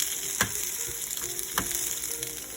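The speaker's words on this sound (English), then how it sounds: "Crack an egg, it goes right in the corner." Eggs sizzle steadily in a hot cast iron skillet for breakfast tacos, with a continuous frying hiss and two sharp clicks of a shell cracking against the pan edge, close and moderately loud with no talking.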